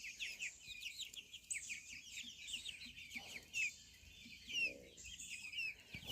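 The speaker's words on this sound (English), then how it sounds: "I'm pretty sure she's a hen though" Ameraucana hens in a backyard flock give soft, faint clucks under a busy layer of high chirping birdsong, quiet and somewhat distant.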